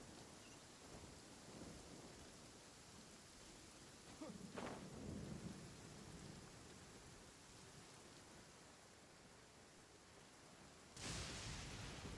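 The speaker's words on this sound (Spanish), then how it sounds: "Está viendo tormenta y no es normal. Es la primera vez que veo tormenta aquí" A thunderstorm in the video game Genshin Impact: steady rain hiss with a low rumble of thunder building around the middle, then a sharper crack near the end, with no talking.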